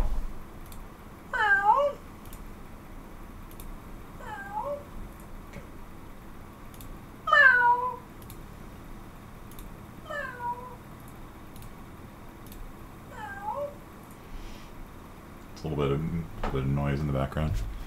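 Several short, distinct cat meows spaced a few seconds apart, fairly close, followed by a brief burst of louder noise at the end.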